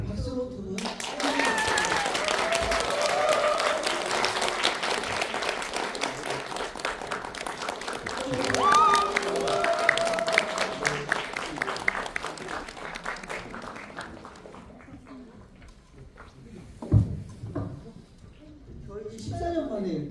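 A cinema audience gives a warm round of applause to welcome a book author and a voice actress at a film talk, dense clapping that swells, peaks around the middle and fades off, with a host speaking over it near the end.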